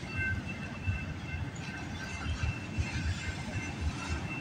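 A CPKC freight train rolls past on a cold morning, a continuous low rumble of wheels and railcars with faint metallic squeals, steady and moderately distant.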